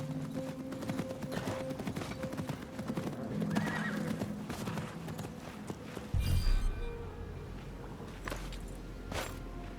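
A horse in Assassin's Creed Mirage gallops in a fast continuous hoofbeat, then neighs loudly near the end, with scattered background noise around it and no talk.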